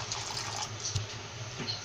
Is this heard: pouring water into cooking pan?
yes